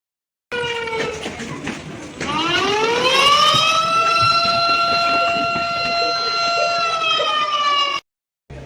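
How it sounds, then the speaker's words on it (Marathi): A loud alarm siren winds up in pitch and then holds a steady wailing tone for several seconds before cutting off abruptly. "आम्हाला सायरनचा आवाज आला"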